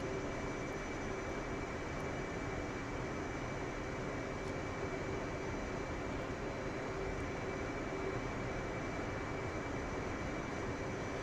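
Steady, unbroken jet engine drone of an F/A-18C Hornet taxiing to the active runway in the DCS flight simulator, a dense constant roar with a faint high whine and no voices.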